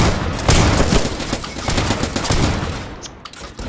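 Rapid bursts of gunfire fill a Roblox Trenches battle, dense overlapping shots and booms rattling loudly and continuously with no pause.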